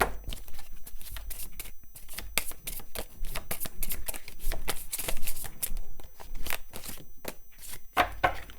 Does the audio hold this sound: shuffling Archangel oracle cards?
yes